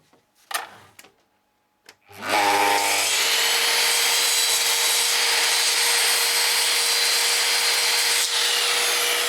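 A power tool cuts into a wooden interior panelling board to fit around a ceiling beam; after a few handling knocks the tool starts up loud and steady, rasping continuously to the end.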